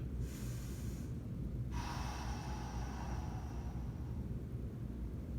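Deep yoga breathing: a soft, fairly faint breath drawn in, then a longer airy exhale trailing off, close to the listener over a low steady background hum.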